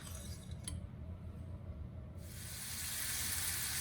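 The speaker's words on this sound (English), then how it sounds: "let's get to sauteing these vegetables up" Onions and other vegetables sauté in butter in a pan for chicken pot pie, a faint, steady sizzle with a sharp clink early on and the frying hiss swelling brighter and louder toward the end.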